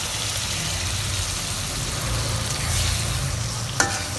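Hilsa fish from the Jamuna river hitting hot spiced oil in a pan, a dense continuous sizzle close up with a low rumbling hum underneath and a brief clink near the end.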